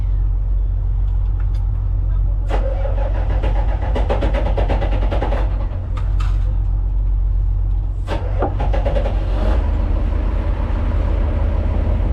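A loud, constant low boat engine drone rumbles throughout, with intermittent clanks and rattles layered on top.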